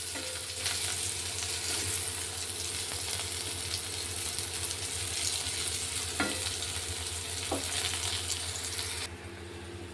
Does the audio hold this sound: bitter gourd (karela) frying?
yes